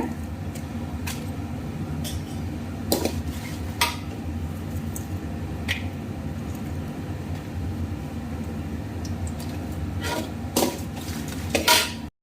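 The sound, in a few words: roasting dried chillies and garlic in sesame oil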